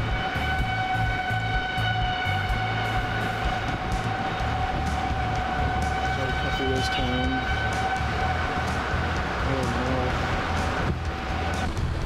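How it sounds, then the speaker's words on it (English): A sustained tornado siren wail carries over heavy, continuous rumbling noise during a storm in the town of Milford, with faint voices briefly audible beneath the din. "Tornado sirens are blaring as we cut through the town of Milford."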